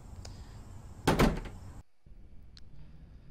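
A door opens inside a house in the horror game Power Drill Massacre: a single loud creaking burst mid-clip, followed by a dead cut to silence and a faint room tone with one brief high click.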